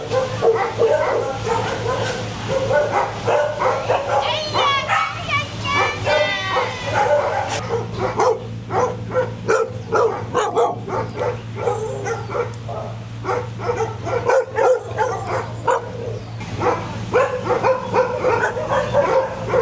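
Many dogs at a dog shelter bark and yip continuously, overlapping in a dense, loud chorus with a steady low hum underneath and occasional higher whimpers.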